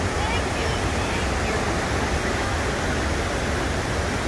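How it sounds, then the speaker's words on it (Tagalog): A large waterfall at Banon Creek Falls roars in a steady, dense rush of falling water that fills the whole scene. "Sa baba, yan ang may malaking falls."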